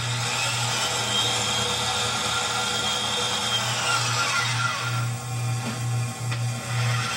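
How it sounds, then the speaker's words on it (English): A drill spins a bolt stub from a Mazda RX-7 13B rotary engine rebuild against a grinding wheel, giving a steady loud whirring grind with a low motor hum that shifts and wavers near the end. "Chuck the stub of the bolt up in a drill and then spin it against the grinding wheel to make sure that it's flat"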